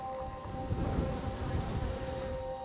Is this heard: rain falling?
no